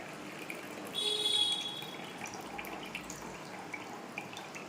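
Water is strained off soaked rice, heard as a brief run of pouring followed by soft, faint dripping and trickling nearby.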